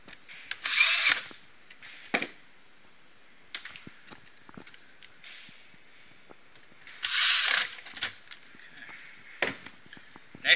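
Short bursts of a power drill driving screws back into a 24-inch Pick-Up Bag-A-Nut machine, two louder whirring runs separated by quiet stretches with small clicks and handling noises.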